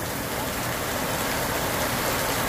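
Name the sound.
heavy rain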